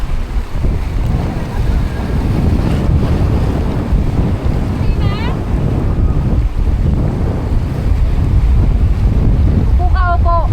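Strong wind buffets the microphone at Magra Beach Resort, a loud continuous roar with surf-like rushing underneath and brief faint voices mixed in.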